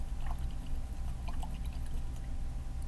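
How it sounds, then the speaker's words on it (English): A paintbrush is swished in a cup of water, making soft sloshing, dripping and gentle splashes against a low steady background hum, no talking. "I need to wash my brush"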